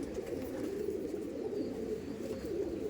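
A Madras pigeon held in the hand gives a low, continuous cooing that hums steadily and close for the whole stretch, with no voices over it.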